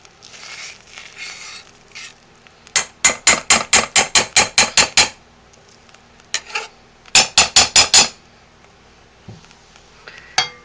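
A utensil clanks and scrapes around the inside of a pot of homemade laundry soap in two quick bursts of sharp, rhythmic metallic knocks, separated by quieter stretches.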